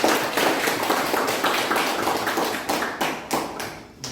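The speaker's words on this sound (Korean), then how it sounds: "박수로 부탁드리겠습니다" Audience at a founding assembly applauding, a dense burst of hand clapping that thins toward the end with a few separate claps.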